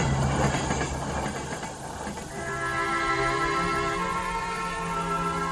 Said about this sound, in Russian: Под стук колес.